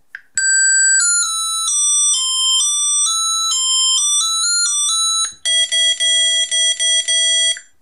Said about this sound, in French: On peut changer la sonnerie d'alerte du chipolo, celle que je vous ai fait entendre juste avant.